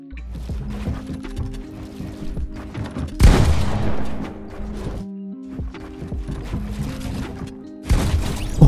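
Video game gunfire fired with trigger stoppers comes in rapid bursts of shots, with a couple of louder, heavier blasts and short pauses between volleys.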